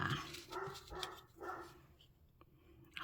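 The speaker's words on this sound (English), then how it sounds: "I'm wondering if you can hear the dog." A dog barks a few times off in the distance outdoors near woods, faint and intermittent over quiet background.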